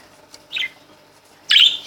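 A green budgerigar in a small cage gives two short, bright chirps, the second louder and longer, against near silence.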